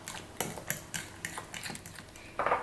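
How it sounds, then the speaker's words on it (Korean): Quick clinking taps of a utensil against a bowl while mashed banana and egg are stirred together, a rapid irregular series of light, close scraping knocks. "으깬 바나나에 계란을 하나 넣고 골고루 섞어주세요"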